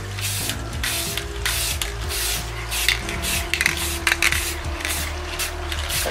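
A topside paint spray can, an upside-down any-angle type, gives a continuous close hiss of spraying with faint rubbing and clicks of the nozzle mechanism underneath, no voices.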